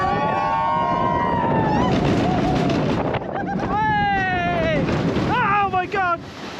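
A log flume boat at Plopsaland De Panne amusement park splashes down into a lake with a loud rush of water and wind, while riders shout and scream throughout.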